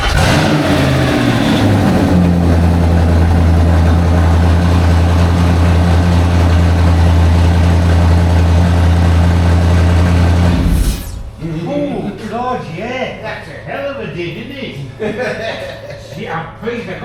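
An engine with custom-fabricated exhaust runs loudly, with a steady rumbling idle and normal revs, then cuts off abruptly, leaving people talking in the background.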